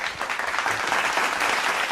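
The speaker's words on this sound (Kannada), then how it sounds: "ಈ ಹಾಡನ್ನು ಕಂಪೋಸ್ ಮಾಡಿದವ್ರಿಗೆ ಕೂಡ ಒಂದು ಚಪ್ಪಾಳೆ ಬರಲಿ" Audience applause on a Kannada singing reality show stage, dense and loud clapping for the song's composer, sustained evenly without voices on top.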